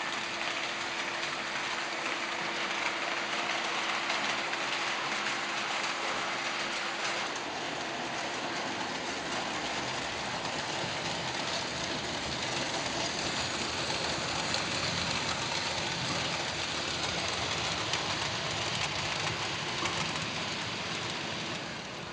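An H0-scale Swiss Intercity model train runs on a layout, a constant rushing, rattling whir that holds steady for over twenty seconds, with a faint hum dropping away partway through.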